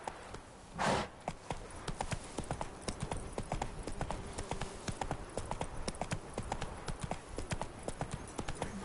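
Hooves of a horse ridden in the video game The Witcher 3 clip-clop in a steady, rapid rhythm, loud and close throughout, with a brief whoosh near the start.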